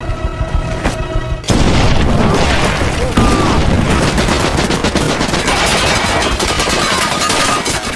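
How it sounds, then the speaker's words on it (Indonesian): Battlefield combat in a war film: a landmine blast gives way to sustained bursts of gunfire and booming impacts, loud and dense, with rapid cracking shots layered over rumbling explosions. "Karena ledakan dan tembakan"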